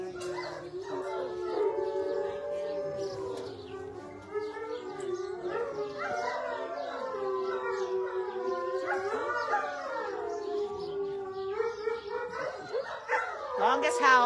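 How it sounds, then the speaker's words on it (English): Wolves at an animal sanctuary howl in a long, close chorus of rising and falling tones that overlap and carry on without a break, growing louder toward the end. "Longest howl ever."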